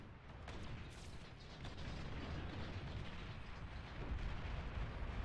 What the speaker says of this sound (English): These are some very questionable bombing runs.